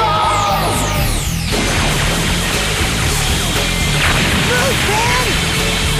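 Energy-ball attacks explode in a Goku anime battle as a dense, continuous barrage of loud blasts and crashes, with sweeping whooshes cutting through.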